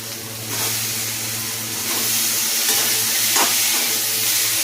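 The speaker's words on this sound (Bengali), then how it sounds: "পটলের বীজটা আমার ভাজা ভাজা হয়ে গেছে, এর মধ্যে আমি আলু সিদ্ধটা এড করে দিচ্ছি।" Boiled potato is added to pointed gourd seeds already frying in a pan, giving a steady sizzling hiss of hot oil that stays loud and close throughout, with no voices.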